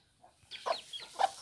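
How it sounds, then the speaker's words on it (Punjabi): A duck calls a few times up close, short raspy quacking bursts spaced apart against a quiet background, with no voices present. "ਵਾਹ ਡੱਕੀ"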